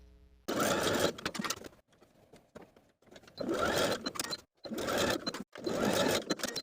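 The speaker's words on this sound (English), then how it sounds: "Then we're going to sew horizontally to close off this section that's extending beyond the skirt." A sewing machine stitches a horizontal seam on a vintage skirt in four loud, close bursts of rapid whirring, separated by short pauses.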